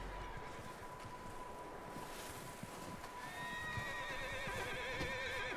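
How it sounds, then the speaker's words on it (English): A horse in the game Red Dead Redemption 2 whinnies in a rising, wavering call over steady low background rumble, the neigh arriving partway through and lasting a couple of seconds. "There's a horse over there."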